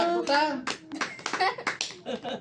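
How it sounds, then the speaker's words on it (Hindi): People clap along at a birthday celebration in a home, quick rhythmic handclaps under a lively group singing and a voice. "अरे तालियां हैप्पी बर्थडे टू ठोक के यू"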